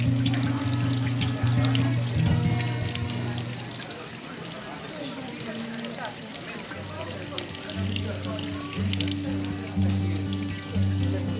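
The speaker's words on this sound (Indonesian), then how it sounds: "Banyak keran-keran air serupa ini berupa fonten yang menyediakan air bersih bagi wisatawan." Water runs steadily from a public drinking fountain tap in Bosnia, a continuous close splashing gush that fills the whole stretch, with a voice speaking over it.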